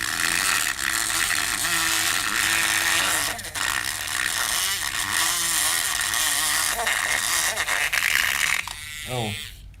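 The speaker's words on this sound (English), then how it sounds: "Luckily I brought my vacuum with me." A vacuum cleaner runs loud and close while cleaning a car's interior during mobile detailing, a steady high-pitched whine with roughness and brief dips as the nozzle moves, fading near the end as someone speaks.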